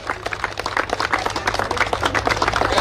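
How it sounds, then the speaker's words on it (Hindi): Audience clapping for an award presentation at a Ravidas Jayanti gathering, a moderate ragged patter of hands throughout, fairly close, with a low steady hum beneath. "एक बार जोरदार तालियां बजाइए"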